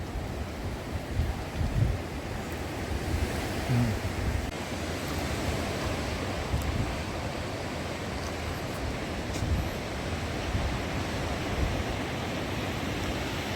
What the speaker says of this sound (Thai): น้ำทะเลแรงมาก ไม่ได้ลงเลยนะ คลื่นมันแรงนะเลยไม่กล้าลง